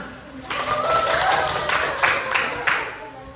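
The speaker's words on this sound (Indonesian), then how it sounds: "Tepuk tangan." A classroom of students bursts into clapping after a group's score is read out, a dense, fairly loud patter that starts suddenly and continues to the end, with some voices mixed in.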